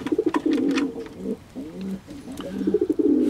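Two new white pigeons coo close by in repeated throaty, rolling bursts, loud and clear with short pauses between calls and no talking.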